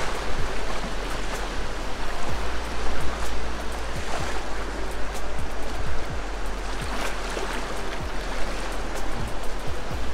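Waves wash steadily onto the Baltic Sea shore, a continuous broadband surf roar with a low rumble underneath, fairly loud and constant, no voices present.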